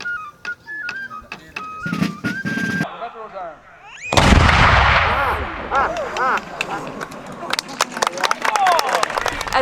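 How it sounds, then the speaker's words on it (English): A cannon blast at the closing ceremony of the Fortress of Louisbourg historic site, a loud broadband boom that breaks in abruptly and fills the air with rumbling echo, followed by crowd noise and scattered clatter, with speech and bird-like chirps before it. "the final cannon blast of the day"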